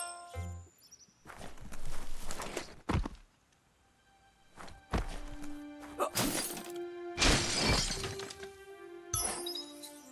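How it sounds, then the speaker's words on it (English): A box is smashed in the video game Biomutant, with several sharp breaking and shattering crashes and thumps separated by short pauses, alongside game sound effects. "You shouldn't worry about smashing up the box."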